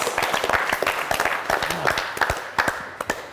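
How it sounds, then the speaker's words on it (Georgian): Audience applause for two student teams, FreeUni's Indie Aura and Ilia University's Yinuli-9, at a televised student book quiz, with dense steady clapping and a few louder sharp claps standing out near the end. "აპლოდისმენტები ინდიაურას და აპლოდისმენტები ყინულს ხრას"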